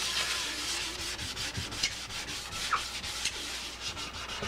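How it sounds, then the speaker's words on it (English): Sandpaper rubbed by hand over old paint on a track bike frame, a steady close scratchy rasp with repeated back-and-forth strokes and no talking. "I'm just moving the sandpaper around."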